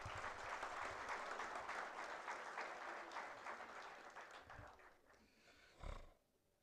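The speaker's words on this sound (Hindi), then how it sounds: "एक बार डेनिस जी के लिए ताली बजाइए।" Audience applause for Dennis ji at a talk, a sustained wash of many hands clapping that fades toward the end, with a brief louder burst just before it stops.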